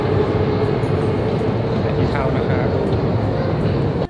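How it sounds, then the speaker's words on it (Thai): Moscow subway train running underground, a loud steady rumble and roar that fills the clip throughout before cutting off abruptly at the end. "ในคลิปตอนนี้ก็กำลังเดินไปขึ้นรถไฟใต้ดินกลับที่พักครับ"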